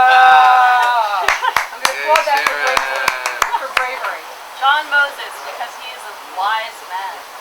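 A few sharp hand claps ring out around a comedy round-table stage, scattered and close, over a sustained warbling tone, with people talking and reacting afterward.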